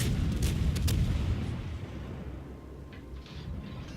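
Enemy ship gunfire in World of Warships rumbles in heavy booming salvos, a loud low blast at the start followed by a rolling, fading rumble and a few softer thuds.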